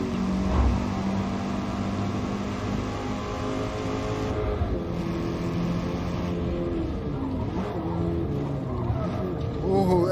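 An all-wheel-drive Golf race car in the Forza Motorsport video game drones steadily at high revs through a race, with gear changes and revving swells throughout.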